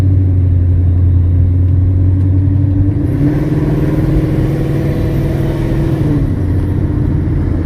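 A Ford Mustang S550 fitted with a Holley Sniper race intake manifold cruises at light throttle, a steady low engine drone that shifts in pitch partway through and then settles, close and continuous with no talking.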